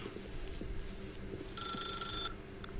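A telephone bell rings briefly in The Stanley Parable, a bright multi-tone ring lasting under a second over a low steady background hum, loud and close.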